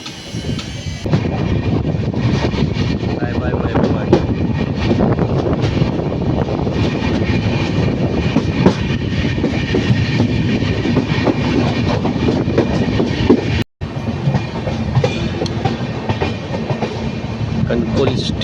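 Indian Railways passenger train running between Dadar and Kudal in the Konkan during monsoon, a loud continuous rumble with steady wheel clatter throughout and one brief dropout near the end.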